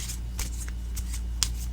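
A narrow deck of Angelic Messenger oracle cards being shuffled by hand: several short, crisp riffling bursts close to the microphone over a low steady hum, with no talking.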